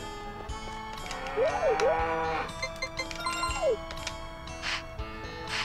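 A cow in Harvest Moon 64 gives several synthesized moos over a gentle game melody, with a few chime-like dings in between.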